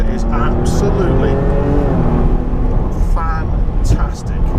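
A Jaguar XE S V6 engine accelerates hard, its rising, throaty note heard close from inside the car as the revs climb, with a voice speaking over it.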